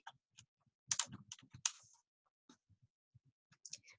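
Brief bursts of computer keyboard typing while entering presentation notes, sharp clustered clicks near the mic, then scattered single keystrokes with pauses between them.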